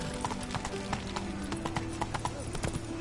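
Rapid clip-clop of horse hooves at a gallop in The Witcher 3 video game, steady and close, with a rider's voice calling out over the hoofbeats.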